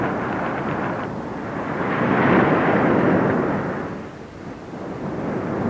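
A deep, rolling thunder rumble swells and fades over a dense wash of heavy, torrential rain, with no voices.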